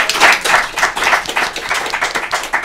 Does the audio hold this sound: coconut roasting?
no